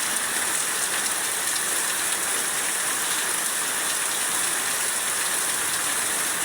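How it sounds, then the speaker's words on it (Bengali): Steady, dense rain at the start of the monsoon season in Bangladesh, with cool wind, hissing evenly and close by throughout without any voices. "এটা হচ্ছে বৎসরের শেষের দিকের বৃষ্টি, আর এখান থেকে বর্ষা শুরু।"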